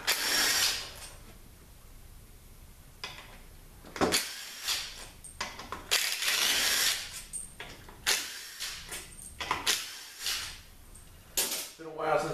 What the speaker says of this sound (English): Now we'll take the rest of the bolts out on the outside.